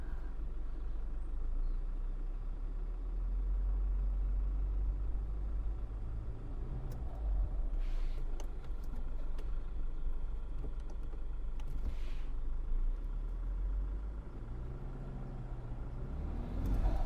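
New Land Rover Defender off road in mud terrain mode, a steady low engine rumble heard from inside the cabin with no let-up, and a few faint knocks near the middle.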